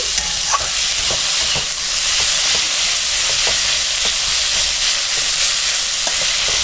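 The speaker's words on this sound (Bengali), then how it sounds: "আমি এবার দুই তিন মিনিট ভেজে নেবো" Steady sizzle of pumpkin leaves frying in a pan over medium gas, close up, with occasional scraping taps of a spatula stirring.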